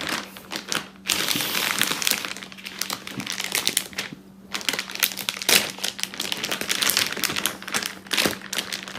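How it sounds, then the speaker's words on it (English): Plastic packaging around a Huion Kamvas 22 Plus pen display tablet crinkles loudly and close up as the tablet slides in, a continuous crackling rustle with a brief lull in the middle. "Sorry, the plastic's a little loud"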